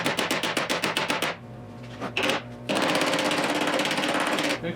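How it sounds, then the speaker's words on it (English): Fast, evenly spaced metal hammer strikes on the top corner of a 1972 Triumph GT6 door, a loud rhythmic burst that pauses, then resumes as a sustained rapid rattling, close and without speech. "I'm gonna try to hammer it down."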